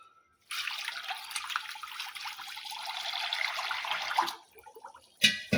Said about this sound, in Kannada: ಈಗ ಇದಕ್ಕೆ ನೀರು ಹಾಕ್ತೀನಿ ನೋಡ್ರಿ